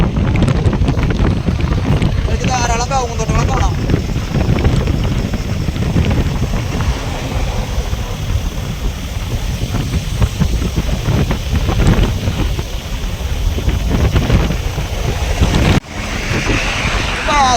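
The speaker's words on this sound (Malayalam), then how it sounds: "ഇപ്പൊ തണവല്ല, ഇപ്പൊ അധികം കാറ്റാണ്." Strong wind roars past a moving Tata 1616 truck on a road trip through West Bengal, a loud continuous rushing buffet with someone speaking over it.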